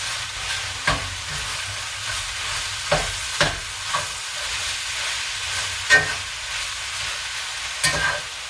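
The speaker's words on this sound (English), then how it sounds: "So again, I'm just stirring it in there." Tofu scramble with tomatoes and peppers stirred in a frying pan, a steady close sizzle broken by intermittent scraping knocks of the utensil against the pan.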